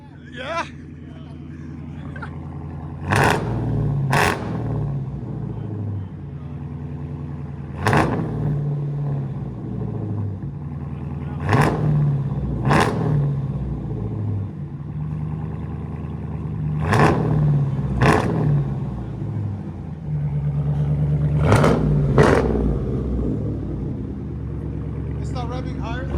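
Dodge Challenger Scat Pack with a 6.4L V8 and drone exhaust revs hard from idle in repeated loud blips over a deep, rumbling idle, heard up close from inside the car.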